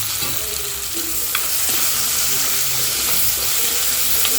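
Tomatoes sautéing in a pan for a curry give a steady, close frying sizzle with a few soft stirring scrapes on top, and nobody speaks.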